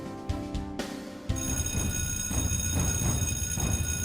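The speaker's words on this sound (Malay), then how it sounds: "ketenangan dan keceriaan waktu pagi dikejutkan dengan deringan loceng kecemasan yang membingitkan cuping telinga" Loud emergency alarm bell ringing continuously in a university faculty building during a fire drill, its harsh metallic ring starting abruptly and sustained to the end, no voices.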